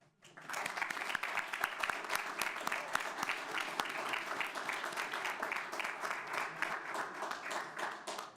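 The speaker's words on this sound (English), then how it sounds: "please give a round of applause to our national TSA winners" Sustained audience applause for national TSA student winners at a school board meeting, many hands clapping in a steady, even wash that starts abruptly and carries on with no voices over it.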